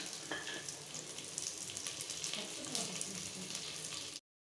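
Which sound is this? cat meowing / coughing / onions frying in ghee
onions frying in ghee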